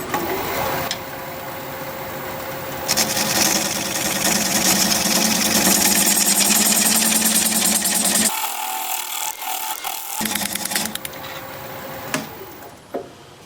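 A gouge cutting a scrap of cracked apple wood spinning at high speed on a lathe, a loud rough continuous cutting roar over motor hum that drops out briefly, then resumes and fades at the end.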